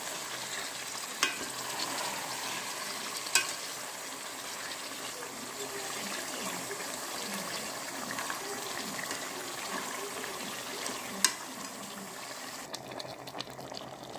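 Chicken and masala sizzle steadily in a hot pan as a spoon stirs them, giving a continuous soft frying hiss with a few faint scrapes and clinks.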